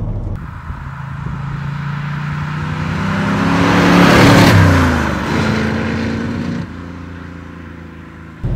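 A 1972 De Tomaso Pantera with a 5.8-litre, 350 hp American V8 accelerates hard, the loud engine note rising in pitch to a roaring peak midway, then easing off and settling back to a steady drone.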